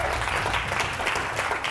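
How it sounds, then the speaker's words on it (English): Dense, steady applause from a live audience at a business team event, continuous and fairly distant-sounding throughout with no pauses. "now, thunderous round of applause"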